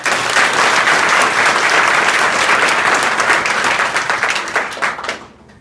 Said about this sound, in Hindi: आप लोगों से चाहूंगा कि इन सभी लोगों के लिए जोरदार ताली मार के कार्यक्रम